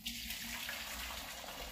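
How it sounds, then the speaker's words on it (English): Blue ternate flower tea is poured from a container into a pitcher through a strainer, giving a steady, close gushing stream that flows unbroken from start to finish. "pouring this into my pitcher"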